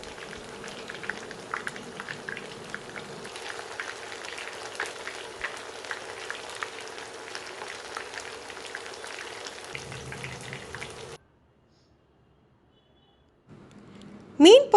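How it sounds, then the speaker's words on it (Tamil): Fish pieces frying in hot oil for a garlic fish fry, a steady close crackling sizzle running for about eleven seconds, then a short silence before a brief clatter at the end. "3 நிமிஷம் பொரிஞ்சாக்கில் திருப்பி விட்டு இன்னொரு 3 நிமிஷம் பொரிச்சிக்கலாம்."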